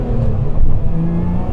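Lotus Emira engine at full throttle in first gear, a loud, close, low-pitched roar that holds steady with a slight surge midway, heard alone without talk.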